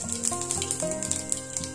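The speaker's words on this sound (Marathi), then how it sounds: "तर तेल आता चांगलं तापलेलं आहे. तर यामध्ये आपण मोहरी घालून घेऊया आणि" Mustard and cumin seeds dropped into hot oil in a pan sizzle and crackle steadily for a moment, close and moderately loud, with a faint tonal hum underneath and no talking.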